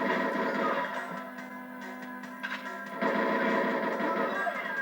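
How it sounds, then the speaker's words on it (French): Gunfire and exploding objects in GoldenEye 007 on the Nintendo 64 crackle over game sound, with bursts of shots and blasts at moderate loudness. "quand on détruit un truc, ça explose"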